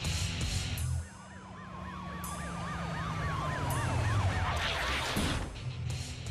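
A fire truck siren in an animated cartoon wails loudly and steadily, its rising and falling tone sweeping over a rumbling engine and traffic noise.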